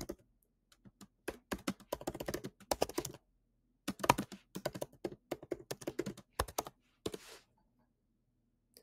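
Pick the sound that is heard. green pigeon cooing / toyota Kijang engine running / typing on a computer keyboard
typing on a computer keyboard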